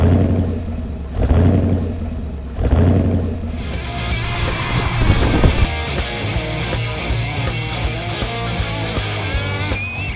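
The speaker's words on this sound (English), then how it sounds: "We have a V8, and we're the only team with a V8, and it's fantastic getting to hear that roar" A V8-powered EcoCAR 3 competition car at the event, engine surging in loud swells before settling into a sustained roar under overlapping music-like tones.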